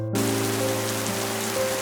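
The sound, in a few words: rain falling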